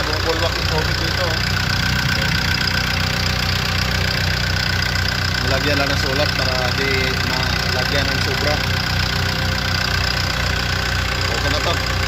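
A Cummins QSF2.8 diesel engine runs after a top overhaul, idling with a steady mid-pitched rhythmic knock and hum throughout, close and continuous, while a person talks over it.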